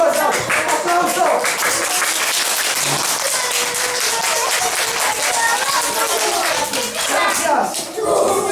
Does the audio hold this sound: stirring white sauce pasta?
no